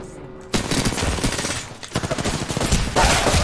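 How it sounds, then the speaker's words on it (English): Gunfire in the video game Apex Legends, loud rapid bursts of automatic weapon fire crackling in dense volleys after a brief quiet start. "Oh, we're getting shot at."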